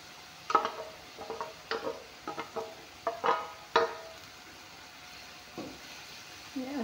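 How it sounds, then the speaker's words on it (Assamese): Small fish dropped into a pan of simmering mustard greens give a handful of sharp sizzling spatters and clinks in quick bursts, then quieter bubbling frying that fades and briefly returns. "এতিয়া এয়া চাওক মাছখিনি ধুনীয়াকৈ নাভাজাকৈ দি দিম।"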